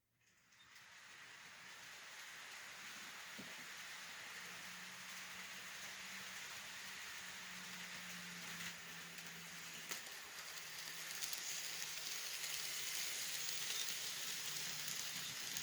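A passing consist of an Alco PA with Southern Pacific and Union Pacific E9 diesel locomotives gives a steady, distant broad rumble and rush that builds slightly as it goes by, heard at a moderate level.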